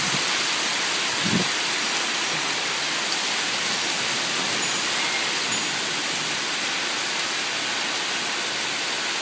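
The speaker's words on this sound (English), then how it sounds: "We're having a bit of a rain shower." Steady rain shower falling in a garden in Port Credit, a dense continuous hiss of drops close by, with one brief thump early on and no voices.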